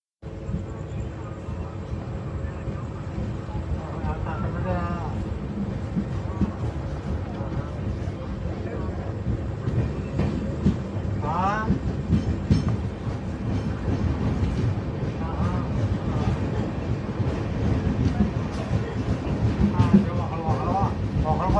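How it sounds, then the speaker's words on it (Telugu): The Tirumala Express rumbles steadily along the tracks for a long stretch, a constant heavy roar with faint rhythmic clatter and occasional squeals. "మనం అయితే ట్రైన్ అయితే ఎక్కేద్దాము"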